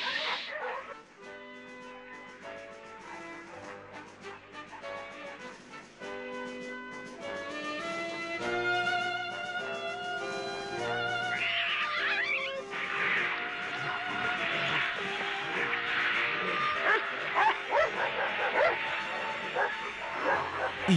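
Cartoon dogs yip, whimper and bark in short bursts over a continuous musical score, with character voices talking at times.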